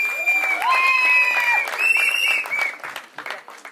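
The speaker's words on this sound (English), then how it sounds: "Big round of applause for her as well." Audience applause and cheering from a live crowd honouring someone on stage, steady clapping for about two and a half seconds before it tapers off with scattered claps.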